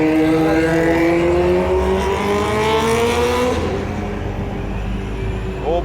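A loud motor vehicle, taken to be a motorcycle, revs hard with rising engine tones and sweeps past close by, then fades over several seconds, with no voices.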